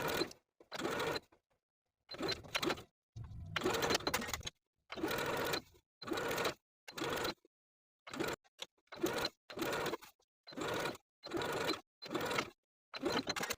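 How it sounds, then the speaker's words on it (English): Sewing machine stitching a seam allowance to a tank top's bodice lining, running in about a dozen short bursts separated by silent pauses, each burst a steady close mechanical whir. "Once you've sewn as far as your presser foot will allow, backstitch to secure."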